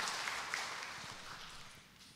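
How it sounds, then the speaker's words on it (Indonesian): Church congregation applauding at a Sunday service after a children's performance, a soft, steady patter of many hands that stays even and slowly fades over a couple of seconds. "Kita beri tepuk tangan Bapak Ibu."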